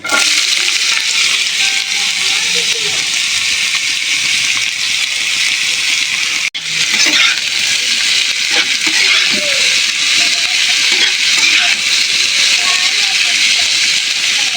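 Cut potato and bitter gourd pieces, washed and drained, sizzle and crackle steadily in a hot pan, a loud continuous frying hiss broken by one brief dip, with a voice talking faintly underneath.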